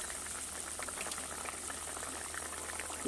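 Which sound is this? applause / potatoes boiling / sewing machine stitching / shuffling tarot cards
potatoes boiling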